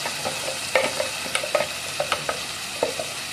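Blended sarson ka saag, a mustard greens dish, being stirred in a pan: a string of irregular spoon scrapes and soft thick knocks over a low background hiss, close and moderately loud, with no talking.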